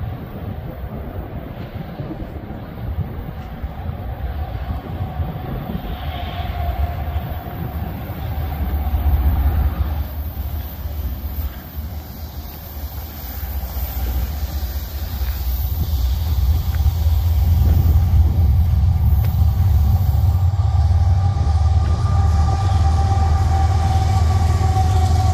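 A CN freight train with Bessemer and Lake Erie and Maine Northern locomotives rolls past at milepost 49 in Halton on a February day, a low rumble building steadily and staying loud, with wind buffeting the microphone.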